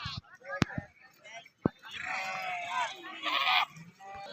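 A flock of sheep sets off to graze after a village palanquin procession, giving a few wavering bleats close by, with shorter knocks and faint voices mixed in.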